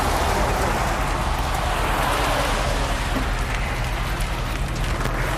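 Hail and rain pound down during a storm chase on a tornado day, a loud, steady, dense roar that continues without a break from start to finish.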